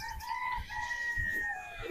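Chickens at a market in Kuwait, a brief stretch of nearby clucking and a drawn-out crowing call over a low bustle, with no voices on top.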